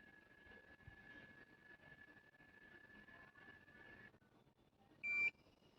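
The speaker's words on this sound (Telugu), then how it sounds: "అంతే, సౌండ్ వస్తుంది మనకు అలా, బీప్ సౌండ్." A beep sounds from an automatic hair curler as its button is long-pressed, a short electronic tone standing out near the end after a steady high whine and background noise.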